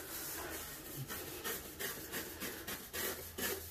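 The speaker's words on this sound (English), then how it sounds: "remember not to scrub that hard" A mini brush scrubs shower grout in quick back-and-forth strokes, each a short bristly rasp. The scrubbing is close, rhythmic and fairly quiet.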